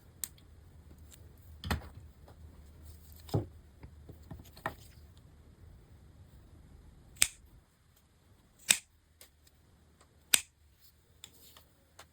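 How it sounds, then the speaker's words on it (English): Scissors snip through one back layer of a handmade fabric shoulder bag, a few sharp, separate clicks spaced a second or two apart, fairly close and quiet with no talking. "So peel it up and make a cut with scissors."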